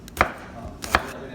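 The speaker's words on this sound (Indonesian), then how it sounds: "Nah ini diiris kayak gini tipis-tipis ya, jahenya diiris tipis-tipis kayak gini" A knife cuts thin slices of ginger on a board in two crisp, close chops about three-quarters of a second apart, with a quiet background between them.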